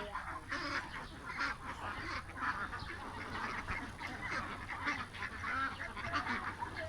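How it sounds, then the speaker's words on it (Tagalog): A crowded flock of ducks at a market quacks and honks continuously, many birds calling at once from close by at a moderate level, with light background noise. "Ayan yung mga itik nila guys."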